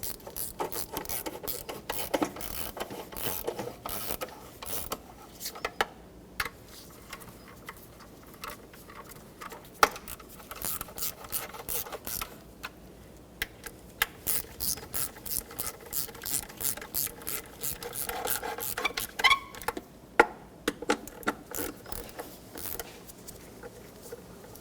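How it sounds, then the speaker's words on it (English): A ratchet with a 12mm socket and extension snugs intake manifold bolts on a 2014-2019 Toyota Corolla 1.8L four-cylinder, giving long runs of rapid close clicking in bursts with short pauses between them. "Now with my 12mm socket and extension, I'm going to start from the center out. I'm just going to snug them up before I torque them."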